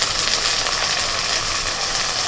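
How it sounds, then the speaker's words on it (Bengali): Tomatoes fry in hot oil with turmeric and other spices, giving a loud, dense, unbroken sizzle close by with no talking. "টমেটোটা একটু ভাজা ভাজা করে নেবে"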